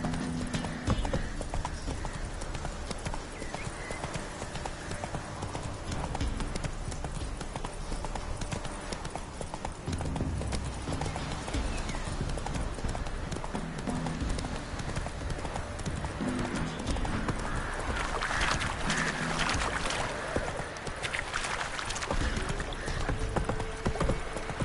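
Hoofbeats of the horse Roach galloping in The Witcher 3 clip-clop in a steady rhythm throughout, with occasional whinnies over a continuous game soundscape and no talking.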